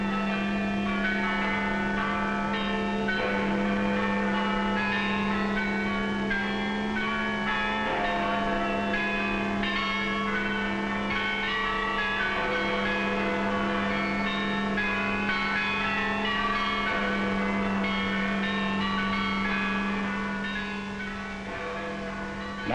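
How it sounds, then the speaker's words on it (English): Church bells ring out across Britain in a wartime thanksgiving for victory, a dense, sustained peal that carries loudly and continuously with layered tones from start to finish. "Now the bells rang out a song of thanksgiving,"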